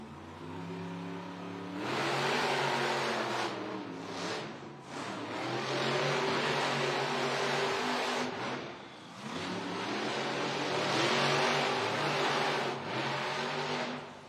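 Several monster truck engines rev hard at the starting line inside an arena, loud roaring bursts rising and falling in waves with brief dips between, no talk over them.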